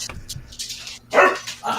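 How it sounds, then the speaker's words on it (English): A small dog yips and barks in short, close bursts indoors, with a louder bark near the end; no talk. "start barking"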